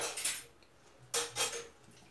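Spoon scraping and clinking in a bowl while sugar and vegetable oil are mixed, several short bursts of stirring close by, with quiet gaps between them.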